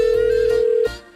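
A steady telephone call tone, loud and unbroken for most of the clip before it cuts off, heard while a farmer rings a buyer over an onion field deal.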